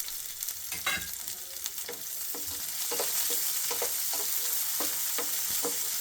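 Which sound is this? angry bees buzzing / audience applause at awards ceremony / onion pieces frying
onion pieces frying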